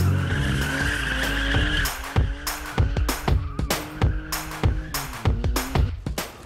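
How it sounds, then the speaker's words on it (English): A spinning car skids through tight circles around obstacles, its tires squealing loudly in long sustained screeches broken by repeated sharp bursts as the car whips around, engine noise underneath and no talk. "It involves running in circles with squeaky tires and maneuvering around obstacles."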